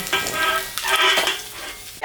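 Small tengra fish fry in hot oil as a spatula scrapes and stirs through the pan, making a dense, close sizzle with rough scraping strokes over about two seconds.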